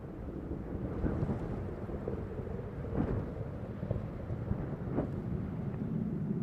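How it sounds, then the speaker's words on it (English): Space Shuttle Atlantis on the STS-122 launch, its engines throttling back up, a loud continuous low rumble with crackling bursts, steady and sustained without voices. "The engine's beginning to throttle back up"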